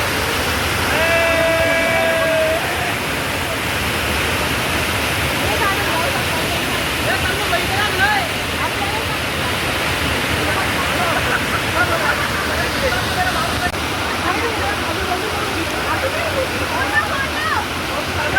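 Bhavli waterfall in monsoon season, a steady, loud roar of falling water that fills the whole stretch without a break, with a few faint voices under the rush.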